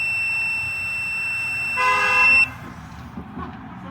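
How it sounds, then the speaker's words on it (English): A car horn gives one sustained toot of about half a second from a vehicle nearby on the road, standing out clearly over low traffic and background noise, with no talking. "I don't know why somebody's honking at me."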